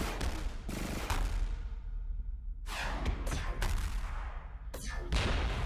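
Nuclear missiles bombarding a big cruiser with a point defense system in the space strategy game Stars In Shadows: rolling, dense blasts and rumbling impacts in close succession, loud and continuous, with no voices.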